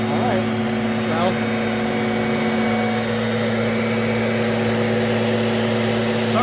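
A Lindhaus Healthcare Pro vacuum cleaner runs close by with a steady, loud motor whine and broadband airflow rush, holding an even level throughout with faint background voices.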